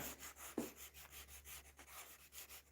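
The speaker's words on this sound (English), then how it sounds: "I'm going to sand in this area." Hand sanding in a paint room, a faint rhythmic back-and-forth scratching of abrasive over a surface, with about a dozen strokes in quick succession.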